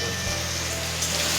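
Ginger garlic paste fries in a pan with a steady, close, even sizzle for chicken curry, the hiss running continuously with no talking.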